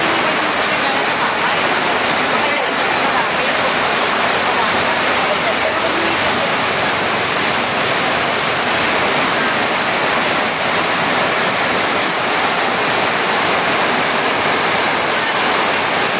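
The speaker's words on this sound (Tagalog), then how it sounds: "Lakas ng ulan." Heavy rain pours down beside a river in Bulacan, a loud, dense, unbroken hiss of rushing water and downpour that holds steady throughout with no voices heard.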